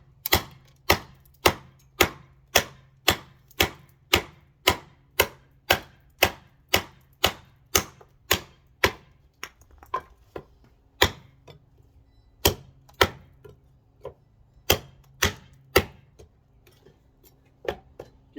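Sharp chopping blows from a Tops Storm Vector knife strike a wooden log in a steady rhythm, about two per second, close and loud, slowing and becoming more irregular toward the end.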